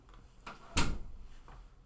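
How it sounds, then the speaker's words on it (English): A door closes with a single dull thump, preceded by a soft shuffle, in a room with faint background noise. "I think he was trying to get out and close the door."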